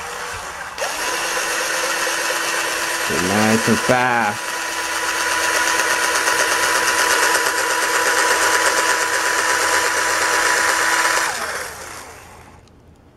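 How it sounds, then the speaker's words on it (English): Power drill boring through a pencil sharpener held in a clamp, a loud steady whirring drone lasting about ten seconds that stops abruptly, with brief speech near the start. "this will hold your pencil sharpener while you drill through it"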